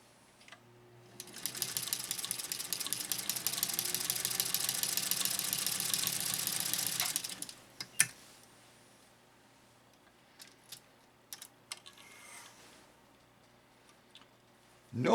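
A Singer 201-2 sewing machine stitching a single layer of veg tan leather runs in a steady, fast mechanical whir for several seconds and then stops, leaving scattered faint clicks.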